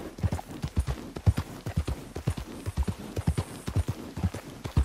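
Horse hooves clip-clop at a steady walking pace in the video game Red Dead Redemption 2, close and distinct, with faint ambient noise underneath.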